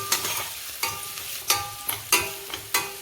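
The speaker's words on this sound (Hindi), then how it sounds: "हरी मिर्च को भी हम अच्छी तरह से भून लेंगे।" Finely chopped green chillies fry in hot oil, giving a soft sizzle broken by regular scraping stirs about every half second, close and quiet with no talk.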